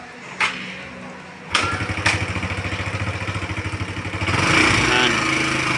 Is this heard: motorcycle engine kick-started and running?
yes